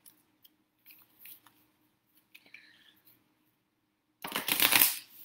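A tarot card deck is shuffled: scattered soft card flicks and slides, then a loud riffle burst near the end.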